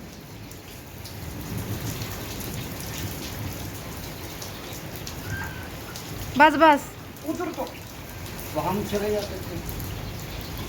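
Heavy rain pouring at night, a dense continuous hiss of drops on surfaces, with a few short spoken words and other voices briefly rising above it.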